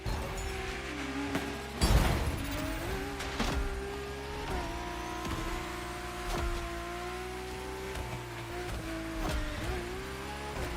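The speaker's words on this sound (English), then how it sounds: "Your drift car is powerful as hell. With so many horses, they'll try to run wild with every acceleration." A powerful drift car's engine in The Crew Motorfest racing game, revving and holding a steady, buzzing drone that rises and falls in pitch, with a brief louder burst near the start.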